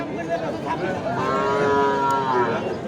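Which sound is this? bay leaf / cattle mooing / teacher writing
cattle mooing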